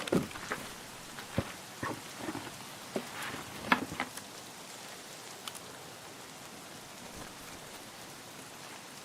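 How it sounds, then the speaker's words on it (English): Steady rain falling outdoors in a video game, a continuous soft hiss with scattered louder droplet patters, no talking. "I'm gonna just go outside into the rain."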